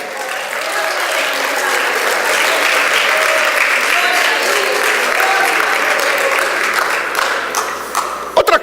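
Loud, sustained applause from a church congregation, a dense steady wash of clapping that holds for the whole stretch and fades slightly at the end, with a few sharp claps standing out.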